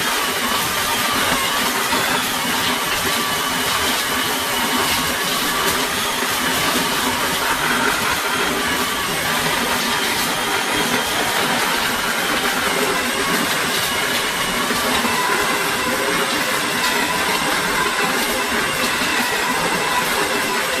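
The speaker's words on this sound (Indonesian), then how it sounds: "Ini saya blender dulu untuk daging sapinya dulu." Blender grinding beef for meatball dough, a loud steady high-pitched motor whir running unbroken for about twenty seconds with no talk.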